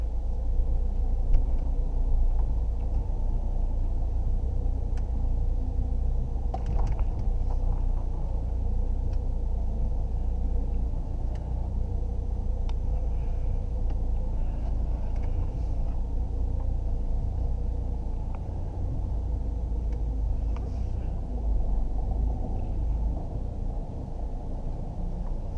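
Steady interior road noise from a car on a drive, a continuous low rumble of engine and tyres holding at an even level throughout with no talk.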